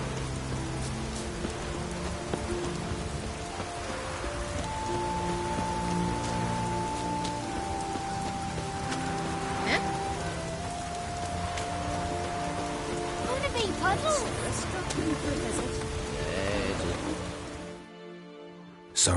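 A light drizzle patters steadily in a Witcher 3: Wild Hunt game world, a dense even hiss of raindrops on surfaces with faint tonal game ambience beneath, continuous until it cuts out near the end.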